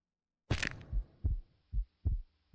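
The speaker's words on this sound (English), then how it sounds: "I heard a heartbeat sound effect" Minecraft's heartbeat sound effect thumps loudly and alone, a sharp first hit followed by four evenly spaced deep double beats.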